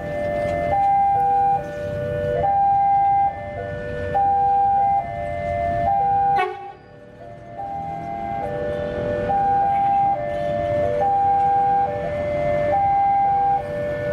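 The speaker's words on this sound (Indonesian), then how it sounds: "Ya kita lihat kereta udah mulai datang ya, udah ada klaksonnya." A KRL commuter train arrives at Tugu Station on the Jogja–Solo line, repeatedly sounding a loud two-tone alternating horn over a steady rumble.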